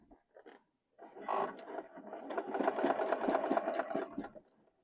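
A home sewing machine runs for a few seconds on a Christmas gift project, starting with a couple of light taps, then a steady close mechanical whir with rapid needle clatter that stops abruptly.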